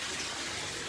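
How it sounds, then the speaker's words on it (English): Warm and cold water gushing from a tap to fill a bath for a cat, a steady loud rushing splash heard briefly and alone. "Some warm water and some cold water."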